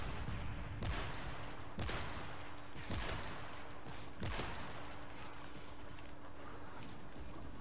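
Gunfire in a first-person shooter game, about four sharp shots spaced roughly a second apart over a steady background hum, fairly faint and without talk.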